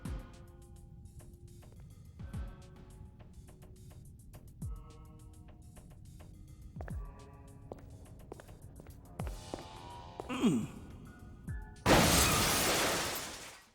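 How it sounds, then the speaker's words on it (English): A large stained glass church window shatters in the Syphon Filter video game: quiet running footsteps build toward a loud, sustained crash of breaking glass that fills the final seconds. "Leaping through the giant window gets us into the graveyard"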